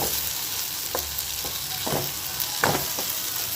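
Spoon scraping and stirring Maggi masala in a pan of frying semiya khichdi, a few soft scrapes over a steady close sizzle.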